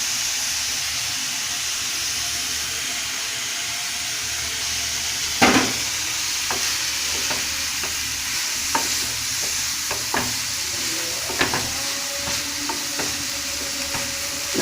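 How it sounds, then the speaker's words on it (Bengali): Grated carrot and coconut are stirred in a frying pan, with a steady sizzle and hiss and occasional sharp scrapes and taps of the spoon against the pan. No one speaks. "আমি একটু নাড়া দিয়ে দিব"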